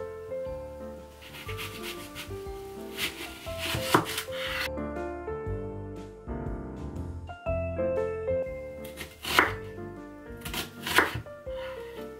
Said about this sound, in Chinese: 我们先来切洋葱。